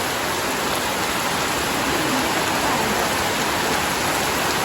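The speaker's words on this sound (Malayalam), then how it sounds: "പെരും മഴ കേട്ടോ. നല്ല കാറ്റും അടിച്ചിട്ടുണ്ട് കേട്ടോ. കാറ്റും മഴയാണ്." Dense, unbroken hiss of heavy rain with wind pours down steadily and loudly, a constant broadband roar with no voices.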